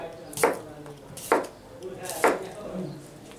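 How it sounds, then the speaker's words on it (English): Potatoes sliced with a knife in a cook helper's kitchen: three distinct chopping knocks against a board, evenly spaced about a second apart, close and moderately loud with quiet gaps between. "I am now cutting slice potatoes."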